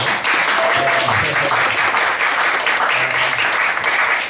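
Loud, continuous applause from a church congregation during a sermon service, with faint voices under the clapping.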